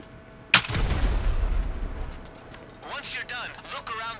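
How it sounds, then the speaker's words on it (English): A sticky bomb detonates in GTA Online with a sharp broadband blast, then a long rumbling low boom that fades over a couple of seconds, and voices follow afterward. "Sticky bomb."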